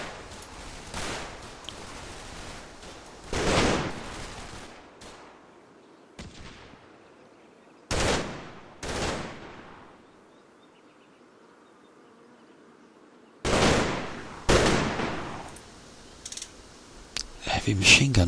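Heavy machine gun bursts in the wartime strategy game Combat Mission, Market Garden campaign: several short, sharp volleys separated by quiet gaps, sometimes fired in quick pairs, close and fairly loud.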